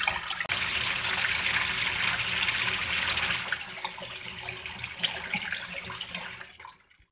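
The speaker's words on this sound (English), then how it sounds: "I didn't realize it was going to be pumping out dirt for crying out loud." Dirty water flushes out of a Well-X-Trol WX-203 well tank into a drain, a loud continuous rushing gush that holds steady for several seconds before tapering off at the end.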